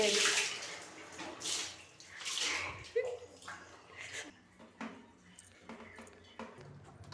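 Water poured over a baby at bath time, splashing in uneven bursts that rise and fall, with a few sharper splashes and faint voices in the background.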